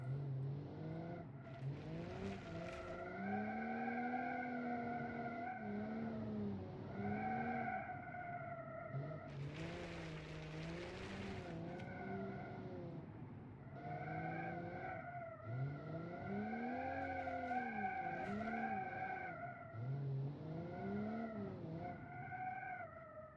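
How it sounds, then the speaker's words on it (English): A drift car in BeamNG slides around a corner, its engine note rising and falling with gear changes while tires squeal steadily, loud and close throughout with no talk. "if you're trying to go around the corner while drifting, this actually does it fairly well"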